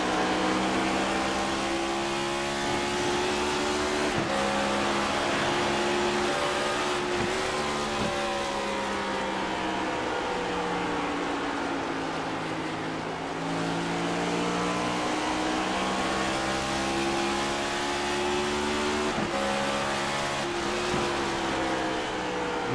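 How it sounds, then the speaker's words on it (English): A race car engine on track at Phoenix, its drone climbing in pitch and dropping sharply at each upshift, with quick downshifts later, steady and fairly close throughout. "Quick shift there on the back stretch and then a quick downshift."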